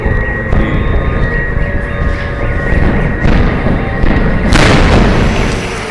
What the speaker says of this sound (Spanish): sintió un estruendo atronador y al voltear, vio como la torre sur se derrumbaba abatida con quejidos de dolor